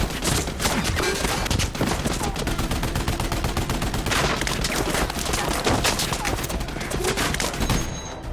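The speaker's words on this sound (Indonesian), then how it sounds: "Dia segera menuju tank dan menembak dengan senapan mesin" Machine-gun fire from a tank in an action film, a dense, loud, continuous run of rapid rattling shots with overlapping bursts throughout.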